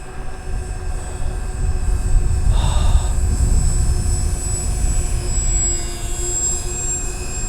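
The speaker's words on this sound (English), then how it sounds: "Look at that plane." An Avios BushMule V2 RC model plane, running on a 4S 3300 battery, flies over snow, giving a steady motor drone with a constant whining tone and a broad rumble, loud and continuous throughout.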